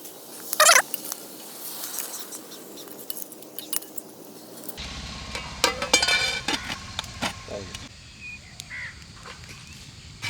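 Sorrel pods dry-roast without oil in a heavy pan while being stirred, giving scattered scraping and clinking strokes, with a brief loud clatter near the start and irregular knocks after a shift in the background.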